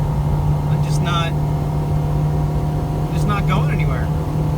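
A Nissan Altima engine running floored in third gear while down on power, a steady low drone with a constant hum, as someone talks over it in two short bursts.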